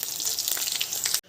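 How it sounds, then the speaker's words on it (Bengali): Soybean chunks frying in hot oil, a steady bright sizzle and crackle close up that cuts off abruptly near the end. "সয়াবিনগুলো খুব সুন্দর করে ভেজে এভাবে তুলে নেব।"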